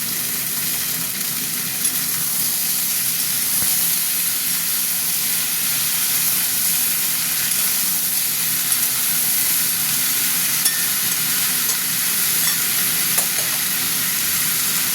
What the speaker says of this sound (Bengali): এবার আমি সবজিগুলো দিয়ে দিচ্ছি, সবজিগুলো ভাজা ভাজা করবো।